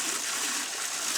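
Water runs steadily from a garden hose to flush ice out in freezing weather, a continuous hissing rush with no voices.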